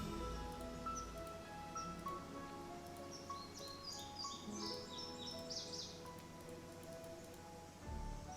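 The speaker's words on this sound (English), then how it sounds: "hear chirping" Small birds chirp and tweet at 4:30 in the morning, a scatter of short high calls clustered mid-clip over a steady rustling, rain-like background hiss.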